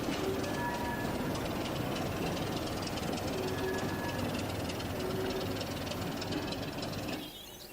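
A Great Western Railway 6400 class pannier tank steam locomotive rumbles and clanks steadily nearby with a heavy engine drone as it departs with its train, the noise easing slightly at the very end.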